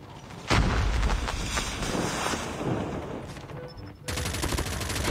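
A bomb blast in the Call of Duty first-person shooter, a loud booming explosion with rumbling, crackling gunfire-like bursts that fade, then a sudden return of dense loud noise, with no speech over it.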